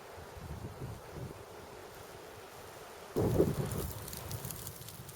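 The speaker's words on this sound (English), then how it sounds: "The wind is blasting quite hard." Blizzard wind blasts against a British Army Arctic tent in snow, a low rumbling buffet of gusts that swells into a louder, nearby flapping surge, with no talk.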